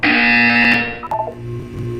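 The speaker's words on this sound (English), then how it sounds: "You will hear a buzzer. When you hear the buzzer, look down at the floor." A loud electronic buzzer from the video game Portal 2 blares for about a second, then cuts off into a brief lower tone that fades out.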